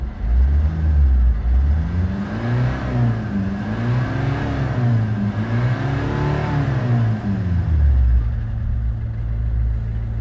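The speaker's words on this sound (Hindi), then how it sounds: "ये देखिए हमारी गाड़ी हाफ सेल्फ में स्टार्ट है, बिल्कुल छूते ही।" A Maruti Suzuki Ertiga diesel engine runs steadily after starting, a loud, continuous close-up rumble with slight rises and falls in revs and no talking.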